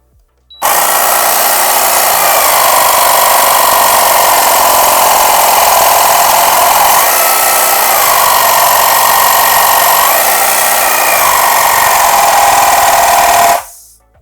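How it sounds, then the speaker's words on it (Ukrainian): A Parkcity T2500 car air compressor runs loud and close with a steady buzzing motor and rapid pumping rattle, then cuts out abruptly at auto-stop, leaving silence. "переключили ми в бари і можемо послухати, як спрацьовує компресор"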